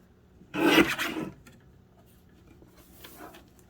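A paper pad board is cut to size, giving one loud rasping, scraping stroke of about a second near the start, then quieter rubbing toward the end.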